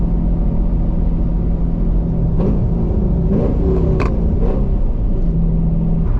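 Chevrolet Camaro SS on a performance exhaust with its valves opened, cruising with a heavy, steady low drone and a few brief clicks and knocks inside the cabin.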